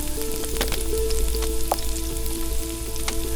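Peppers and garlic fry in a pan inside a wood fired oven, a steady close sizzle with crackling pops and faint stirring, with no voices.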